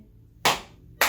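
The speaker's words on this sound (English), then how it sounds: "We're going to slap our thighs and clap our hands." Two sharp, close hand claps about half a second apart from children's storytime rhythm play, with no voices.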